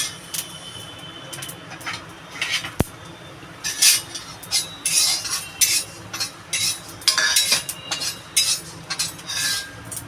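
An ingredient for kharkol (taro-leaf) paste is stirred while frying in a metal pan, giving irregular scraping and clinking bursts with a faint sizzle beneath, no talk.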